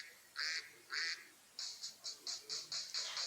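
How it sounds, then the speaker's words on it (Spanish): A duck quacks in a series of nine nasal calls, two spaced apart and then a quicker run of seven, fairly close and alone with no talk. "Dime si tú sabes cómo hace el pato"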